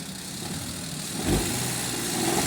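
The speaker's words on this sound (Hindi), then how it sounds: "गाड़ी में अभी भी मिसफायरिंग है।" A Maruti Alto 800 with a misfiring engine revs up briefly, its uneven idle rising into a short burst near the middle before settling back to a rough, steady rumble close by.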